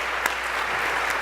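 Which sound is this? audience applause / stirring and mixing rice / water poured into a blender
audience applause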